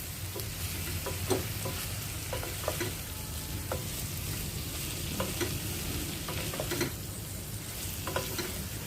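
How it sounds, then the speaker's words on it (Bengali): Onion and nigella seeds fry in a pan with a steady, close sizzle. Light stirring scrapes recur throughout. "আমি কালো জিরে ফোড়ন দিয়ে করছি"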